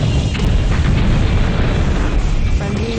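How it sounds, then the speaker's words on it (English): A nuclear bomb detonates in the N64 game Battletanx Global Assault, a loud, sustained rumbling roar of explosion that fills the whole moment. "Nuke deployed."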